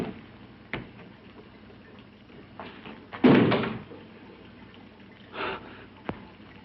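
A door in a 1962 horror film produces a few separated knocks and thuds, with one louder bump and scrape near the middle, over a quiet room with no talking.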